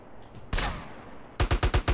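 Sniper gunfire in a GTA-style shooter game: one loud close shot with a trailing echo, then a quick burst of five sharp evenly spaced shots.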